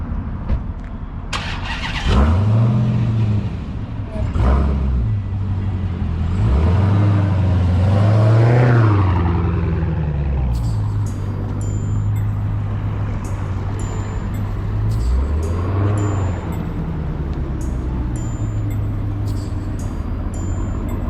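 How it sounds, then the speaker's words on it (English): A car with a half-and-half wrap is started and eased forward to park closer to a lamp; the engine rumbles at idle with a few light revs and pulls, close and loud, with no one talking. "I think I'm gonna park it closer to the lamp real quick."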